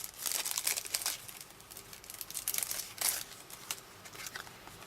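Plastic wrapping around a Post-it sticky note pad is crinkled and torn open in close, quiet bursts of crackling rustle lasting a few seconds.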